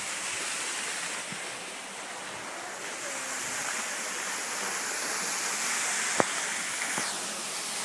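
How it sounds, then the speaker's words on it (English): Waterfall gushing from the side of a cliff in Alaska, a steady broadband roar of falling water that holds evenly throughout, with no voices. "this place has a waterfall. I mean, it's gushing out of the side of the cliff"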